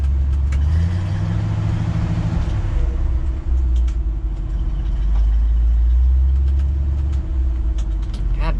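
An engine runs steadily at a bean harvest while the throttle is being set, with a loud, close, continuous low rumble and a slight shift in pitch partway through.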